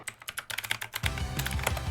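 Rapid clicking keystrokes on a computer keyboard, sparse taps at first and then a denser, louder burst of typing over a low background hum, close to the microphone.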